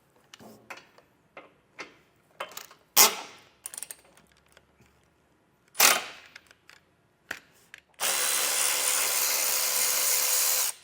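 Bolts come off a 2016 Kia Soul during a Blue Ox base plate install: sharp clicks and short clanks of handling hardware, then a steady loud whir of a power tool running for the last few seconds.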